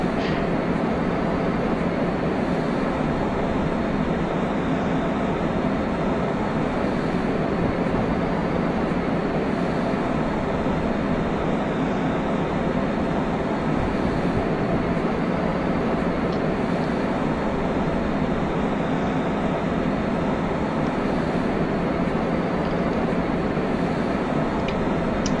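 Two DB BR 189 electric locomotives double-heading a freight train in a train simulator game give a steady, loud rolling drone of motors and wheels, unchanging for the whole stretch with no talk.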